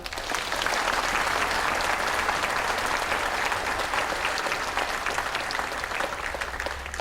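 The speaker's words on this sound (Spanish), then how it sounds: "Un gran aplauso, por favor." A crowd at a Buddhist teaching talk breaks into loud, continuous applause that holds steady for several seconds, dense and close, with no voices over it.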